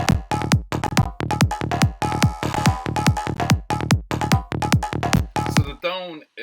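Psychedelic percussion built in Ableton Live with a slightly detuned tone: a steady run of about twenty sharp, ringing tonal hits at a quick even pace, loud and close, closing on a short warbling swept tail.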